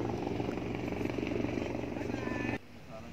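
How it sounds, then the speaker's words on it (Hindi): Helicopter flying over Hudayriyat beach in Abu Dhabi, a steady loud rotor drone filling the scene with beach crowd noise beneath, cutting off abruptly near the end. "साथ दूसरा हेलीकॉप्टर भी है सिक्योरिटी के लिए।"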